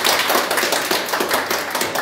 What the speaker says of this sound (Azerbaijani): Hər iki iştirakçımıza bir alqış.